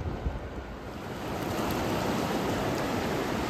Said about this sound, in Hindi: ये है चंद्रा नदी, उस साइड से आ रही है, और वो है भागा नदी, उस साइड से आ रही है